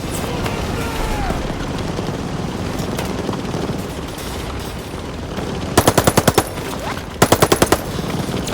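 Call of Duty Vanguard gameplay with two loud, rapid bursts of machine gun fire, near and sharply rhythmic, cutting through a constant battlefield din of distant gunfire and rumble.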